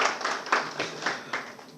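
Audience at a National Cadet Corps Day alumni celebration claps in a brief, bright round of applause, with periodic surges of hand claps close by and no talk over it.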